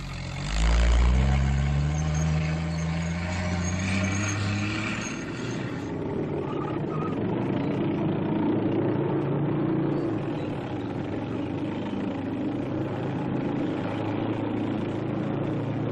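Engine of an M29C Weasel light cargo carrier working over snow-covered terrain, a steady low rumble that is loudest at the start and then runs on evenly, with no talk.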